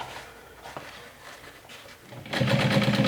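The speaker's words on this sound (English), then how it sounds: "So now I'm just going to stitch just that straight bottom edge." Quiet fabric handling gives way to a sewing machine running a straight stitch along the bottom edge of a convertible handbag-backpack. The close, steady whirring starts loudly near the end.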